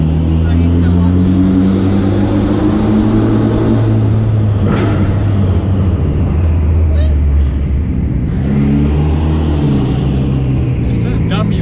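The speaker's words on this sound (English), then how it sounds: "let's go see how loud your car is" A Mitsubishi Evo engine runs loud inside a parking garage, a deep booming idle with rising and falling revs that echo off the concrete, swelling to a peak mid-way and again near the end.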